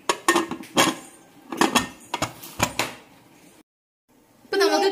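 A pressure cooker holding chickpeas, water and spices is handled and set down, giving a run of close metallic clanks and knocks, then a brief silence and a steadier sound at the end.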